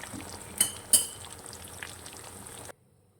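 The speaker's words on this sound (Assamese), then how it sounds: "ইয়াত মই মাছ ফ্ৰাই কৰি আছোঁ" Fish frying in a pan makes a soft, steady sizzle with two sharp clinks early on, then cuts off abruptly into silence.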